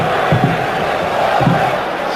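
A large football stadium crowd in Bern roars before a Switzerland v Scotland qualifier, a continuous loud wash of massed voices with a couple of brief swells of chanting.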